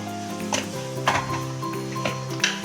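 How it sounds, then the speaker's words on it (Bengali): Green chili, ginger and garlic paste fry in a pan for an egg and spinach dish, giving a steady sizzle with a few sharper scraping stirs at intervals and a faint tonal hum underneath. "এখন আমি এখানে কাঁচা লঙ্কা আদা এবং রসুন বাটাটা আমি দিয়ে দিলাম"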